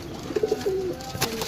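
A pigeon at a bird sale in Jhelum, Pakistan gives a series of low, throaty coos, a few short pulses then one drawn-out call, close and moderately loud over faint background noise.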